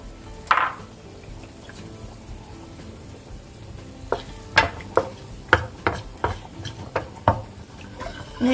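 Egg frying in a pan for fried rice, with a steady soft sizzle under a run of rhythmic clinks and scrapes as a utensil stirs against the pan.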